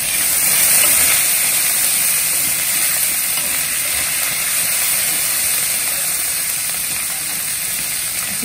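Curry leaves sizzling in hot oil for Mumbai street-food vada pav, a loud, steady, hissing crackle with little variation throughout and no voices.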